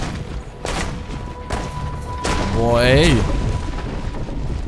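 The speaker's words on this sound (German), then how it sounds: "Boah, was schießt denn da so extrem auf mich?" Gunfire from enemies shooting at the player in Assassin's Creed Brotherhood, a few sharp booming shots spaced over a few seconds beneath a man's excited speech.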